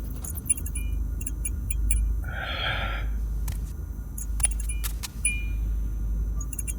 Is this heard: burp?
no